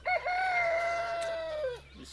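Mr. P, a farm rooster, gives one loud, clear crow lasting under two seconds, sustained and then trailing off, heard alone during winter farm chores.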